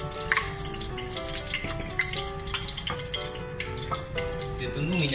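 Garlic sautéing in a little hot oil gives a steady, soft sizzle close by, with a few small clinks and a voice talking over it.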